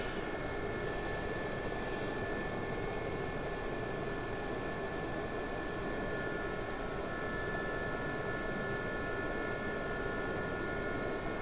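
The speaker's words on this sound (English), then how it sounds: "I saw you nearly rip the tail rotor off your helicopter" A helicopter flying in the DCS combat flight simulator, a steady dense engine and rotor roar with a faint high whine, constant and unbroken at a moderate level.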